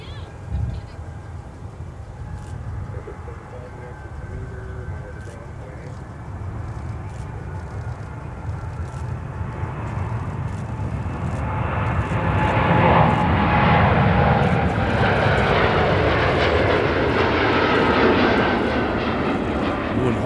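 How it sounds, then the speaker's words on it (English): An Air France Boeing Dreamliner departs from a Minneapolis airport, its jet roar building from a distant rumble into a loud, broad, sustained thunder that holds to the end. "we will listen and enjoy this beautiful Dreamliner as it departs for CDG"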